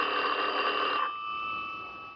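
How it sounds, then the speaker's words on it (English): An old-fashioned telephone bell rings with a loud, continuous metallic trill that then stops and leaves a fading ringing tone, heard alone without voices in an old radio drama. "Dear me, the phone."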